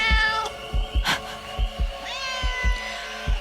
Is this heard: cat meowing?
yes